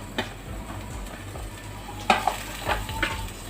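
Carrots and green beans tumble into a frying pan while jeera rice cooks, giving a soft stir and sizzle with a few sharp clinks of utensil on pan over about three seconds.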